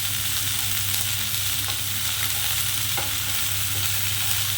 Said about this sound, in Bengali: আমি আপাতত বাড়িয়ে ভালো করে ফুলকপিগুলোকে একটু ভাজা ভাজা করে নেবো